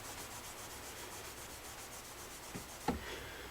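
A soft, steady rubbing of semi-chrome polish onto guitar frets continues under a constant hiss, with a couple of small knocks near the end.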